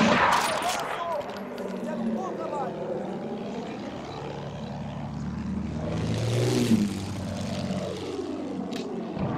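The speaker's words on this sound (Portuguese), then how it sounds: "Avião inimigo avistado!" An enemy propeller warplane in Battlefield 1 roars past overhead, its engine note rising and falling through a Doppler sweep, with gunfire crackling and a voice shouting at the start.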